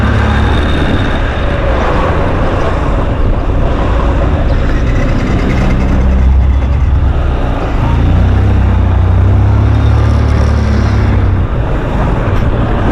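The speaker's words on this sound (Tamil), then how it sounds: "சரியான டிராஃபிக்காக இருக்குது" Heavy road traffic on the highway drive from Chennai to Ooty, a steady loud rumble of engines and tyres throughout with no clear breaks, heard from inside a moving vehicle.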